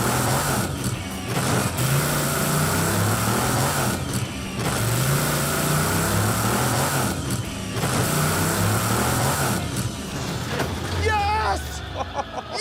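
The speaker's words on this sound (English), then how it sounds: "That's my first ever legit wheelie in my entire life." A project car's engine revs hard and loud during a wheelie, droning steadily with rising and falling pitch, while a crowd babbles and cheers in the background.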